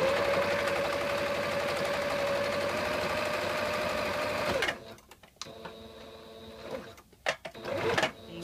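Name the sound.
sewing machine sewing elastic into swim diaper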